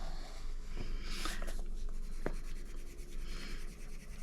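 Pencil strokes on a Johanna Basford Magical Worlds colouring book page, a steady close scratchy rubbing that continues without pause and with no one talking.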